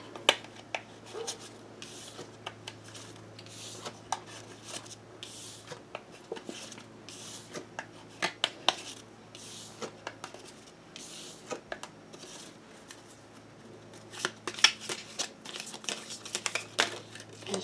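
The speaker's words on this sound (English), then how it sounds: "Just shuffling." Soft, irregular riffling and papery clicks of cards being shuffled, close by and fairly quiet, with brief louder bursts scattered throughout.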